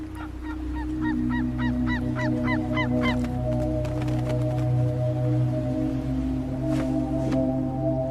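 Steller's sea eagles wintering in Japan give loud, repeated honking calls in quick bursts over steady low background noise, with a few more calls later.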